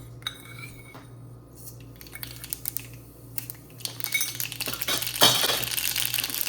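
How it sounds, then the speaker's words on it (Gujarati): Mustard seeds drop into hot oil to temper dal: a few light clicks and ticks at first, then a dense, close crackling sizzle that swells and stays loud to the end. "હવે નાખીશું રાઈ પહેલાં."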